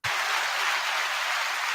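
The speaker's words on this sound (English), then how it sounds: "Are you hearing the clap sound?" A clap sound effect played during a live show: a sudden burst of dense, bright applause-like clapping that starts abruptly and holds steady and loud for the whole stretch.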